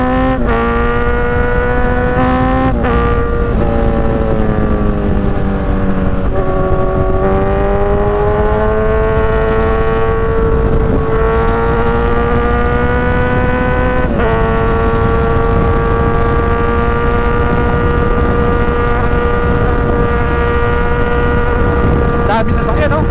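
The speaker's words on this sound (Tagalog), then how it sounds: "Dami sasakyan, no?" Busy street traffic passes around a rider on a motorcycle, with steady engine drone and shifting harmonic tones of nearby vehicles rising and falling continuously and loudly throughout, with a voice speaking over it at times.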